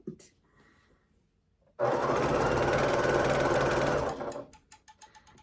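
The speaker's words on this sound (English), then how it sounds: "So now you are just watching me sew at this point." A sewing machine stitches fabric strips for a jelly roll rug, a loud, steady mechanical whir running for about two seconds after a quiet start, then slowing and stopping with a few faint clicks.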